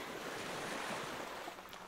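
Ocean surf rolls in at the beach as a broad, steady wash of breaking waves. Wind buffets the microphone, and the roar stays close and constant without voices.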